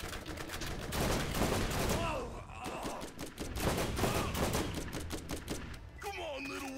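Rapid gunfire from a weapon in the video game Borderlands, bursts of fast repeated shots with a short lull, loud and busy, under someone talking excitedly at times and other game sounds.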